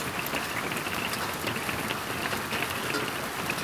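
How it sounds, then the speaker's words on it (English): Hail falls on solar panels at a ranch during a hailstorm, producing a continuous dense patter of countless small impacts, steady and fairly close, with no voices. "actually having a hailstorm here on the ranch"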